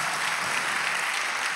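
Church congregation applauding during a sermon, a steady dense wash of clapping that fills the whole short moment without a break.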